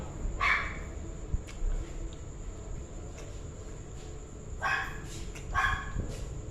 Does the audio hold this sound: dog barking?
yes